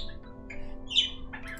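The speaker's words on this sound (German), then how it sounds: "Mein Vogel ist wieder im Hintergrund." A pet bird squawks in the background of a livestream, a few short, sharp high calls standing out over a steady low hum, with no talking.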